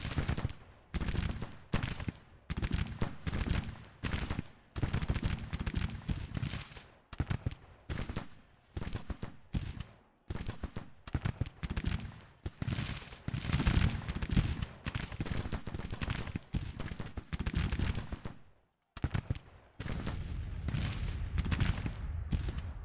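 Continuous volleys of musket and rifle fire from Civil War troops in Grand Tactician, dense overlapping cracks in rapid bursts with brief pauses, sustained for over twenty seconds.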